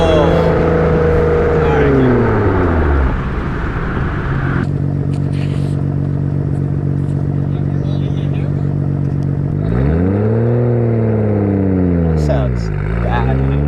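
A straight-piped R32 Skyline GT-R with a Tomei Expreme Ti exhaust revs and accelerates, rising and falling loudly with gear changes and a raspy drone, heard from inside the car with people's voices underneath.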